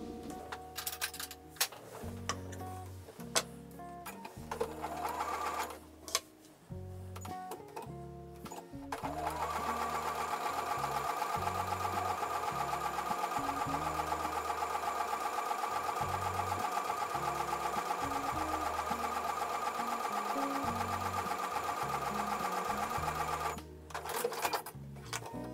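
Sewing machine stitching a quilt block, with short bursts of fast mechanical whirring at first, then a long, steady run of close, loud stitching before it stops briefly and starts again.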